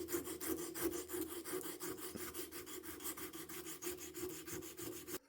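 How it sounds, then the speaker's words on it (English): Steady back-and-forth rasping as 400 grit sandpaper wrapped around a nylon rod is worked by hand over a 1911 pistol grip, the rubbing strokes continuous and close for several seconds before stopping. "I'm just going to wrap some 400 grit around a nylon rod and take care of it like this"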